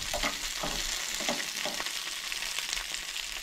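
Onion, garlic and green chillies frying in a pan for Goan horse gram dal, a dense, bright, continuous sizzle with soft stirring scrapes, close and steady throughout, with no voices.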